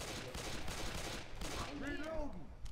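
Rapid bursts of gunfire in the zombie shooter Left 4 Dead 2, close and loud shots firing in quick succession, mixed with voices talking and other game sounds near the end.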